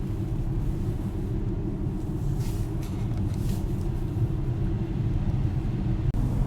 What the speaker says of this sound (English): the engine has started and we're in electric only mode